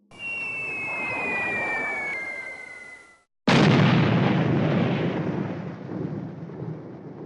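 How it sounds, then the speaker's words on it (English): Bombs dropped on an airfield as a wartime board game sound effect, a falling whistle, a brief gap, then a loud close explosion with a long rumbling decay. "The 93rd drops her 4 bombs."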